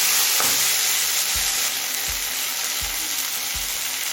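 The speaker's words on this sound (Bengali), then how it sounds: "আদাটা দিয়ে খুব ভালোভাবে কষিয়ে নিয়েছি" Chopped ginger sizzles steadily in hot oil in a pan for veg paneer dal, a constant bright frying hiss with a few soft thumps of stirring.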